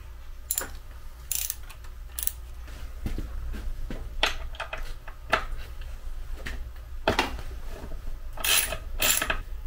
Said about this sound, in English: Let's grab a spark plug socket and we'll pull those plugs out.